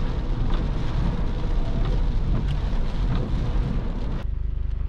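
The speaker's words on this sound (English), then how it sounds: "It's rainy and it's windy." Steady heavy rain with gusty wind roaring throughout, loud and close, ending abruptly in a lower hum near the end.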